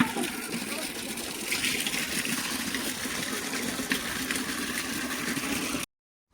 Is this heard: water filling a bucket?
yes